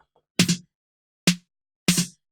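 Three separate snare hits, each a sharp crack with a short body, triggered as a sample on a Vochlea Dubler voice-to-MIDI kit, spaced roughly evenly and standing alone in silence.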